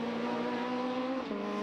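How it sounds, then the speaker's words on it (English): A Super1600 rallycross car at Mondello brakes hard and turns right, its engine note steady and loud, then dropping in pitch as it slows into the corner. "Stands on the brakes, flings the car right"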